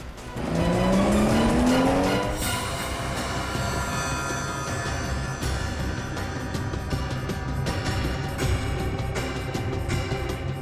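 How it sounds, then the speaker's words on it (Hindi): A car driven very fast with tires squealing and a rising engine whine at the start, then a loud continuous roar of speed and road noise throughout, no talk. "ये गाड़ी इतनी तेज क्यों भगा रहा है अचानक?"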